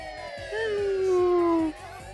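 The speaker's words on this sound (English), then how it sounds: "The sirens began rolling all out at once, and the flashing lights dyed the entire area bright red." A police car siren sound effect in a visual novel rises into one clear, loud electronic wail that holds steady for about a second before cutting off abruptly.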